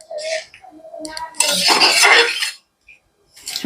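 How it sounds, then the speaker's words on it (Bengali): Coriander leaves are stirred into ghugni in a pan, giving a metal spoon's scraping and clinking against the cookware in short bursts, loud and close, with pauses between strokes. "ভালো করে নাড়াচাড়া করে মিশিয়ে নেবো ধনেপাতাগুলো ঘুগনির মধ্যে।"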